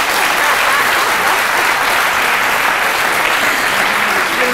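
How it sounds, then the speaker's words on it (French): Steady, loud applause from a crowd, sustained clapping with no pauses throughout. "Je vois des plus jeunes qui applaudissent."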